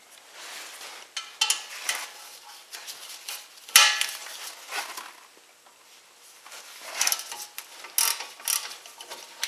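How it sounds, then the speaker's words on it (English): Ratchet fitted with a 15mm socket loosening brake caliper bracket bolts on a 2008-2012 Chevy Malibu, close-up metallic clicking and clanks in irregular bursts with a sharp knock partway through. "go ahead and remove those bolts using a 15mm socket"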